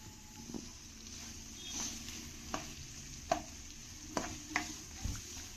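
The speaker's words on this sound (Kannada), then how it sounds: "ಒಂದು ದಪ್ಪ ಈರುಳ್ಳಿ ತೊಗೊಂಡು ಫ್ರೈ ಮಾಡ್ತಾಯಿದ್ದೀನಿ" A thickly sliced onion fries in hot oil with a quiet, steady sizzle, broken by several distinct clinks and scrapes of a spoon being stirred against the pan.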